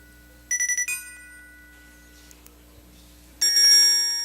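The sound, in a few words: traditional telephone ring tone played on a Nokia phone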